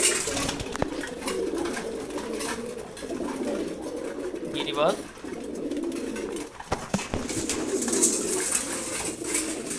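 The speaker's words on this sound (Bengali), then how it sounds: "সবাই খাবার খাচ্ছে সব ধরনের কবুতর এই খাবার খেতে পারে" Pigeons coo repeatedly while eating feed, low throaty warbles rolling on through most of the stretch, with a brief higher bird call and a few wing or shuffling noises.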